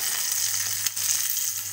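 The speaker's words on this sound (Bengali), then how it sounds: "তো বন্ধুরা এখন মাছ ভাজা হচ্ছে" Fish frying in a pan, a dense, steady hiss of hot oil heard up close, with one brief muffled bump midway and no talking.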